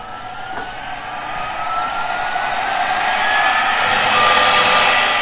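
An inverter-driven electric motor on a university SAE student team's test bench spins up, its whine climbing steadily and growing louder over a constant broadband rush.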